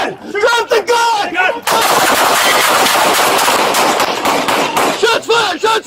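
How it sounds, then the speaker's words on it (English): Loud, close gunfire during a police shootout with a suspect in Baltimore: a sustained rapid burst of shots follows shouted voices, and yelling resumes as the firing stops. "Shots fired! Shots fired!"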